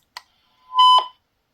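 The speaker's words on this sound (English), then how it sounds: "That beep, it's annoying." A Retevis RT628 walkie-talkie gives a short electronic click followed by a clear, loud tonal beep of about a third of a second, close up with no one talking.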